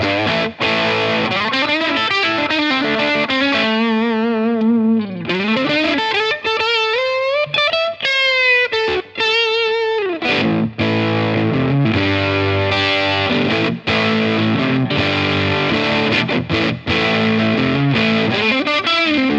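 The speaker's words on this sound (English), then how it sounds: "It's definitely got that silicon fuzz vibe." An electric guitar played through a Cooltone Range Booster silicon fuzz pedal gives a loud, gritty, continuous fuzz, with string bends, sliding lead lines and chunky chords played steadily throughout.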